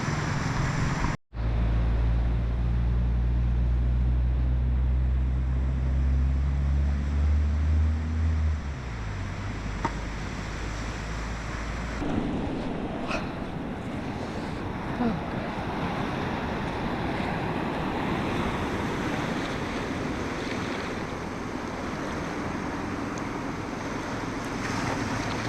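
Ocean surf rolls onto Las Manchas beach in Costa Rica with a constant loud wash of waves and heavy wind buffeting the microphone, and no voices.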